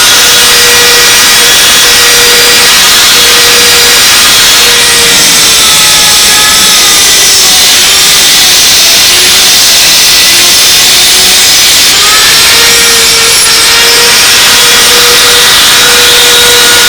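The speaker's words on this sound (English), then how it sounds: "I want to take a parting wheel and dress these off even with the blind nut" A parting wheel on an angle grinder cuts steel bolts flush with a blind nut, a loud, continuous high whine with grinding harmonics that waver in pitch as the wheel bites into the metal, close up with no talk.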